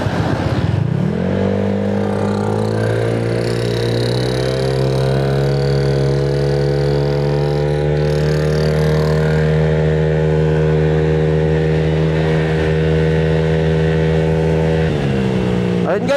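Honda Click 175cc scooter with 14T gearing on a test run, its engine rising steadily in pitch as it accelerates and holding a loud, sustained whine for many seconds before easing off near the end.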